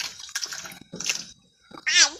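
Hand-caught fish such as koi and shing are rinsed in water, giving a few short, close splashes and sloshes separated by pauses, with a brief vocal sound near the end.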